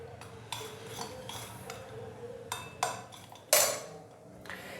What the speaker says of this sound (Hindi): अभी चम्मच की मदद से इन सारी चीज़ों को अच्छे से मिक्स कर देंगे